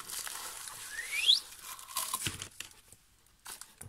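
Crinkly bubble wrap rustling and tearing as packing material is pulled apart while unboxing miniature figurines, with a few sharp crackles and a brief rising squeak, close by.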